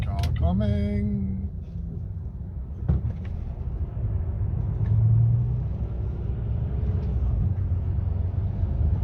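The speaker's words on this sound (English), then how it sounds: "car coming." A car passes along Castlemount Way, a road, as a steady engine rumble that swells to a peak midway and then eases off. A short voice-like sound is heard at the start.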